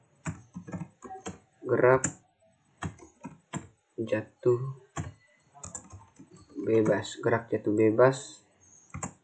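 Computer keyboard typing in short bursts of quick key clicks, close and clear, alternating with someone talking.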